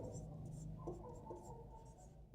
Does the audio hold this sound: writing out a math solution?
yes